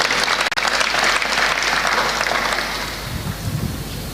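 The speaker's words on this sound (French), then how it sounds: "Sous vos applaudissements" Audience at a gathering in Senegal applauding, a loud, dense, continuous roar of many hands that eases slightly toward the end.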